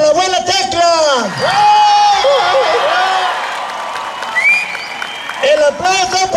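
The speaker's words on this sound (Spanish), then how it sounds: "El aplauso para la abuela Tecla" Applause and cheering from a crowd at a balloon contest, with a broad noisy wash between bursts of loud voices shouting and talking over it.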